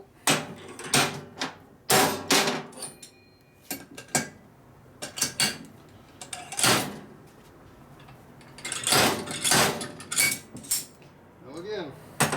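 Heavy hammer blows strike a Harley Shovelhead engine case to drive out a dowel, a series of sharp metallic whacks spread irregularly across the stretch with short pauses, close and loud.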